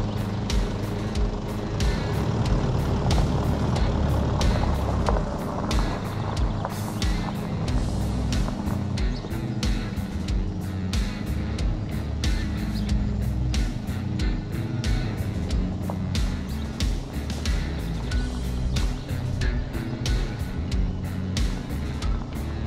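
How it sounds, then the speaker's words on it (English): A 2007 Ford Ranger PJ rolling backwards while its handbrake is applied repeatedly to reset the rear drums, a steady loud broadband vehicle rumble with rapid clicking and scraping texture throughout, no speech. "Gone backwards a few times, applied the handbrake as it is moving back."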